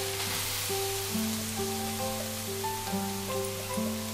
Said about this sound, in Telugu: డ్రై ఫ్రూట్స్ అన్నీ వేగిన తర్వాత మనం తురుగు పెట్టుకున్న క్యారెట్ని కూడా ఫ్రై చేసుకోవాలండి